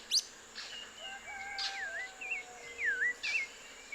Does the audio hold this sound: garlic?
no